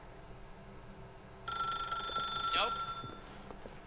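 A telephone rings in The Stanley Parable video game, a steady bright ringing tone that starts abruptly partway through, with a brief spoken word before the ring.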